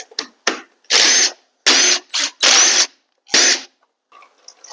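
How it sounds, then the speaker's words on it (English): A ratchet backs out the four 8mm bolts holding the oil filter cap on a Honda CRF250L Rally motorcycle, heard as several loud, close bursts of rapid clicking separated by short pauses. "we're going to remove the oil filter housing or cap or whatever you want to call that, and it's just held on with 4 8mm bolts"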